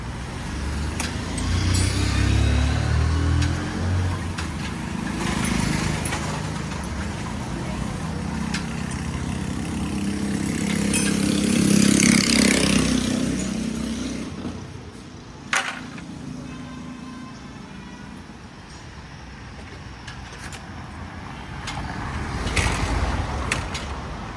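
A motorcycle engine runs and revs unevenly, rising to a louder surge midway, with background noise and occasional knocks nearby.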